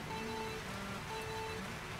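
Rain hisses as a soft, steady wash in a Mario Kart 8 Deluxe race, with faint repeating game tones layered over the quiet noise.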